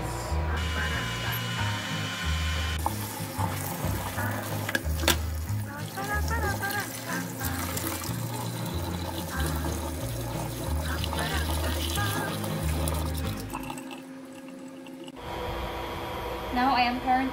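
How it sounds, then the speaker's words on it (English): Fresh udon noodles, just blanched, are rinsed under running tap water in a home kitchen. The water makes a steady pour beneath louder background music that breaks off briefly near the end. "We are going to rinse our fresh noodles."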